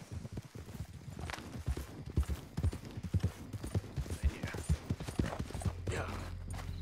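Steady clip-clop of horse hooves walking on a hard surface in the video game Red Dead Redemption 2, rhythmic and fairly close, with a low hum underneath and no talking.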